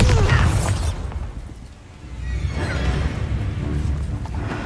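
Bombarda explosion spell in the video game Hogwarts Legacy, a loud booming burst followed by a second rumbling blast and a lingering low roar.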